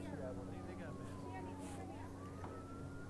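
An ambulance siren wails up and down in the distance beneath a steady hum, faint and muffled, at a high school homecoming football game.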